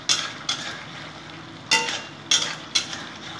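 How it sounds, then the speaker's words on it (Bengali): Aar fish curry masala being sautéed in a pan, with a soft sizzle broken by a few sharp scraping clacks of a spatula against the pan. "দেখো কষাচ্ছি, সুন্দর একটা সেন বেরোচ্ছে"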